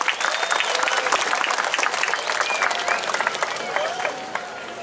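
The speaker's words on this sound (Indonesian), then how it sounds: "Tepuk tangan untuk kita semua." Crowd applause at the closing of the Bali Arts Festival 2022, loud and sustained, with scattered voices and cheers mixed into the dense clapping.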